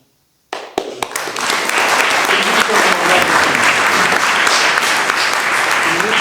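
Sustained applause from a conference audience at a lecture, beginning abruptly after a brief silence and continuing as dense, steady clapping filling the hall without letting up.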